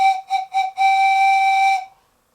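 A homemade wooden slide whistle gives three short, mellow toots and then one longer steady note that stops cleanly, close and loud.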